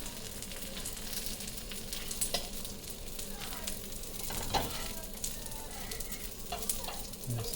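Breaded chicken parm cutlets frying in oil in a pan until golden brown, a continuous close crackling sizzle with occasional pops and scrapes, almost no talking.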